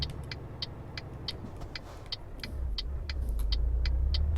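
A truck in Euro Truck Simulator 2 rolls along a road in Bremen, a steady low engine rumble that swells louder toward the end, with a regular ticking, likely the turn indicator, clicking over it.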